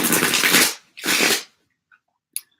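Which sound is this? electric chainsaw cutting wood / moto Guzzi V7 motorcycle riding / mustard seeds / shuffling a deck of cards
shuffling a deck of cards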